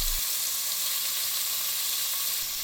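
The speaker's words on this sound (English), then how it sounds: "Once you've got a nice sear on one side, flip it over to brown the other side." Pork belly sears in hot oil for a Japanese kakuni dish, giving a steady, close hiss of sizzling fat with no talk over it.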